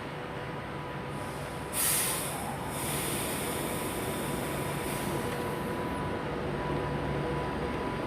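A class 390 electric train on a Milton Keynes Central to Glasgow Central service pulls out of Coventry station, giving a steady low rumble and hum with a brief hissing burst early on.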